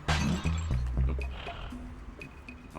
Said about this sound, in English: he can hear the sound of blue bottles shattering